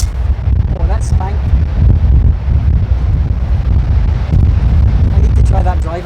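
Strong wind buffeting a microphone on a golf course, a loud continuous low rumble with gusty swells, and a voice speaks briefly beneath it.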